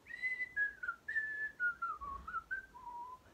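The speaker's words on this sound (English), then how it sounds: "There's this really fantastic whistling in the background that goes..." Whistled melody from a song, a clear, close run of sliding, held notes that rises and falls in a lilting phrase with no voices over it.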